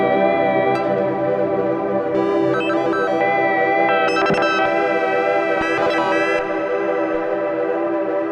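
An Arturia MiniFreak synthesizer plays octaves on a new oscillator type, producing a dense, buzzy, effects-laden tone with chorus, echo and distortion, steady and loud throughout, with brief glitchy accents and no voices.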